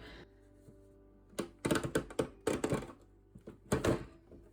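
A binding punch drives through heavy, double-thick paper in a burst of loud, clattering thunks, several quick mechanical knocks in clusters after a quiet start.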